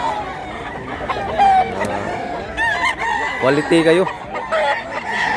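Several Bacolod gamecocks crow in turn, long wavering cock-a-doodle-doos overlapping one another amid clucking, loud and near, with someone speaking briefly in between.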